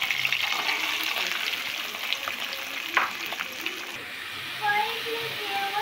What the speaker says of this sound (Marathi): कढई गरम झाल्यानंतर त्यामध्ये आपण लसूण टाकली, मिरच्या टाकल्या, त्यांना चांगलं परतून घ्यायचं।